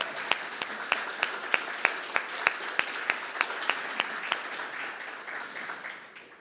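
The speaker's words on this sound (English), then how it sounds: "Can we get another round of applause for them" An audience at a Sunday celebration service applauds the band, with a broad roar of clapping and a few people clapping in a steady rhythm, tapering off near the end.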